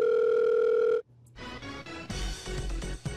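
Telephone dial tone held steady for about a second while a call is placed, then cut off, followed by clicks and a rough, muffled line.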